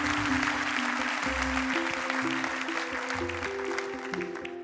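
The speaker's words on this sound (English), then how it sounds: "Let's give him a big round of applause, the new British Talent Cup champion." A hall audience at a MotoGP awards ceremony applauds the new British Talent Cup champion, a steady wash of clapping that persists throughout beneath a bright musical fanfare, easing slightly toward the end.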